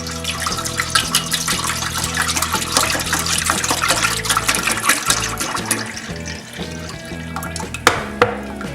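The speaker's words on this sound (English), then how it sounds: "64 fluid ounces of tomato juice. And I'm going to go ahead and put that in my stock pot" A 64-fluid-ounce container of tomato juice pours steadily into a stock pot for chili, a continuous liquid gush that thins toward the end with a couple of small splashes.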